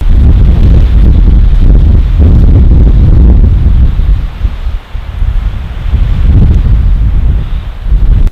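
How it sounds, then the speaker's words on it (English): Strong wind roars across a mountain ridge and lifts fallen snow, making a loud, steady gusting rush with heavy buffeting against the microphone and no voices. "That wind is just picking the snow up that's already fallen and laying on the ground."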